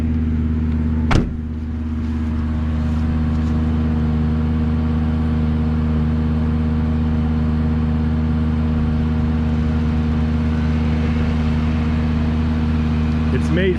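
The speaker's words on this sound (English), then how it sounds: "you keep one foot on the brake, one foot on the gas, you rev it up in reverse" A Ventrac mower engine running while stuck in an orchard, a loud, steady droning hum held close throughout, with a brief click near the start.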